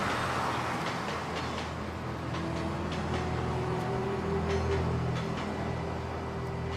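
A train runs along the line beside a former Roman site now in a garden, a sustained rumble with faint whining tones and repeated rhythmic clicks, moderately loud and continuous, with no voices.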